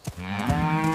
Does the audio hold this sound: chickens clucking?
no